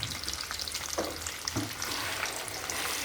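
Mango pieces sautéing in oil for pickle give a close, bright crackling sizzle with a couple of stirring scrapes, steady throughout the short stretch.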